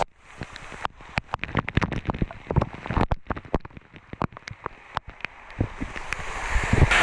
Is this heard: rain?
yes